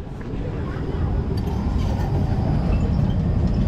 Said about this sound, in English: This place has got trams, look.